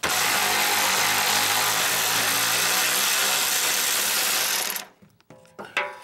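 An electric ratchet runs as a steady loud whir for nearly five seconds while removing bolts from the upper sway bar mount area during a coil-over load leveler shock install on a Sonoma/S10, then cuts off, followed by a few short clanks and rattles.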